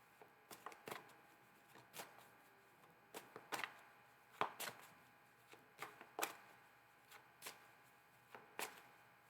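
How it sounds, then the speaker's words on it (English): A deck of playing cards is shuffled in quick riffles and bridges, crisp fluttering bursts repeating every second or so, close and fairly quiet with no talking. "I'm barely even shuffling"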